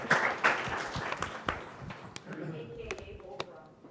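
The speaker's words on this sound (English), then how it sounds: "I think we should give a little round of applause for Allison" Brief scattered clapping from a lecture audience, a few sharp claps rising then thinning out, with talking and room noise underneath.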